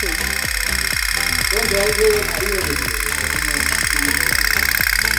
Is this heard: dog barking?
no